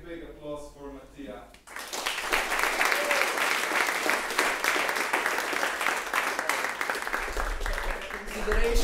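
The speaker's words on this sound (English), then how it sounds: "now a big applause for Mattia" Audience at a keynote for youth entrepreneurs in Slovenia bursts into dense, sustained applause after a brief spoken introduction, steady and full for several seconds, with a voice returning at the very end.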